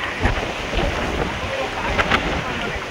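Strong mountain wind in the Himalayas roars and buffets steadily at close range, a loud, constant rushing with small gusty surges throughout.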